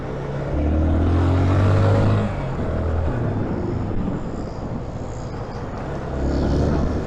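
A Yamaha FZS25 motorcycle engine drones and revs, swelling and easing in a broad, rough rumble with wind noise, heard up close.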